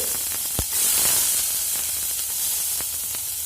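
Half a teaspoon of fennel seeds fries in hot oil for a pea masala, a steady close sizzle and hiss with a few faint clinks and taps.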